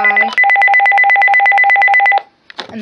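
A Uniden EXAI 3248 2.4GHz cordless phone sounds its bass ringer on the high setting, a loud, fast, steady electronic warble lasting nearly two seconds, bracketed by brief handling or button noises before and after.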